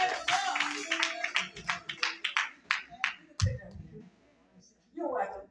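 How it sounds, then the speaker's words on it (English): Church audience at a North Carolina Day service gives a round of applause, heard as a run of distinct, fairly close claps in uneven bursts, mixed with voices talking and calling out over them. "Give her another round of applause."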